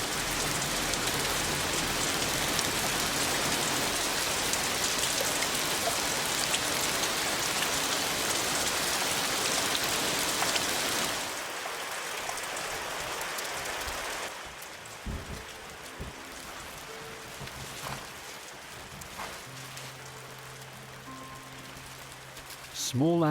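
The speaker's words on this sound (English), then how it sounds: "When the rain arrives, a year's worth can fall in a single night." Heavy thunderstorm rain pours down steadily and loudly in a hot, wet wild setting, then eases to a lighter patter with scattered drops and distant rumbles in the latter half.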